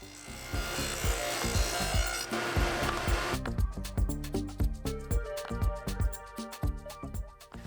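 A table saw cuts a dado in wood, a loud close roar that gives way to a series of rhythmic bumps and thuds as the workpiece is pushed along the fence.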